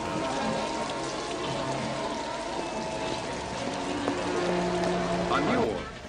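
Rain dripping and pattering in a dim, humid noodle-bar street scene from Blade Runner, a soft steady wash under faint background sounds and brief low voices.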